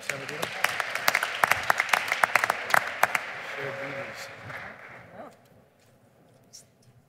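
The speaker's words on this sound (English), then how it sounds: "Let's give a round of applause to Dr." Audience applause at a community gathering panel fills the first five seconds as a dense crowd clapping with sharp individual claps, then fades into quiet room tone with a faint sound near the end.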